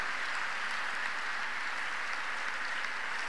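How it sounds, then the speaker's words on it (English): A church congregation claps together in steady, sustained applause that fills the room at an even volume from start to finish. "Clap unto him."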